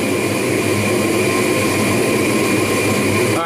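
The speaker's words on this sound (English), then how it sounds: "I got my kickstand heating up in the forge" A blacksmith's forge heating a steel kickstand gives off a loud, steady, even roar that holds for several seconds without a break, close by and with no talking.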